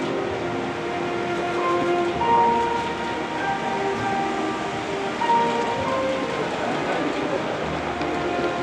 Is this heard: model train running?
yes